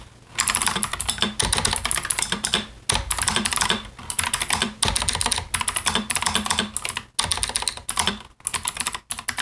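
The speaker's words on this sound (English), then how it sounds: "the keys are nice and clicky." Fingers type on a clicky computer keyboard with a compact 96% layout, producing close, crisp, rapid clacking in bursts separated by short pauses, with no talking.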